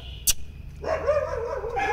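A rescued street dog, old and weighing about 3 to 4 kg, lets out one sharp bark and then drawn-out whimpering yelps close by, with a second yelp near the end.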